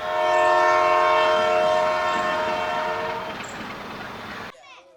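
A train sounds a long, loud horn while rumbling past on the tracks by Shakur Basti railway station, next to the slum near Shivaji Park metro station; the horn fades into the rolling noise of the cars before cutting off.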